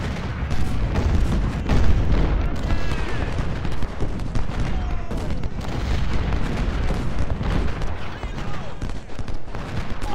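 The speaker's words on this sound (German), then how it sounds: "jetzt schießt auf Walker" Cannon and artillery fire from the Ultimate General: Civil War battlefield, a dense, continuous rumble of booms and volleys with crackling gunfire layered throughout, loud and steady across the whole stretch.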